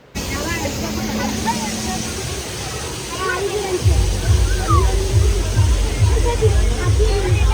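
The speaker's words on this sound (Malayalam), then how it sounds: "ദേ ഇതാണ് നമ്മൾ കാണുന്ന വെള്ളച്ചാട്ടം" A roaring waterfall at a scenic forest stop, a dense continuous rush of falling water close by, with a rhythmic low pulsing thump in the second half and a voice talking over it.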